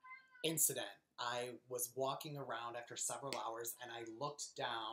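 A pet cat gives a brief meow at the start, after which someone talks steadily close to the microphone.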